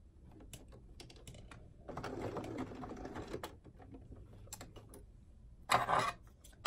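A home sewing machine runs a wide zigzag stitch of about 1.5 length and 4.5 width on garment fabric, in short bursts of rapid mechanical ticking with brief pauses and a few louder clunks near the end.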